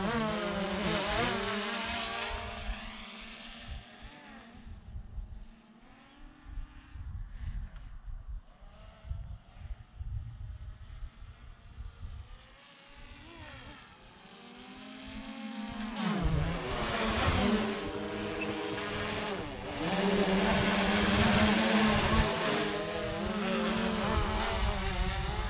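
DJI Mavic Pro Platinum drone flying outdoors near Tortugas mountain, a steady buzzing whine that swells louder and brighter in the second half as it passes close, with wind and handling noise.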